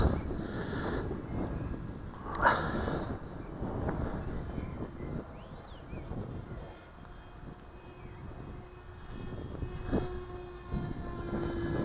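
A model sport jet aircraft engine running at about half throttle, a continuous whining roar that wavers slightly in strength, with outdoor wind noise over the microphone.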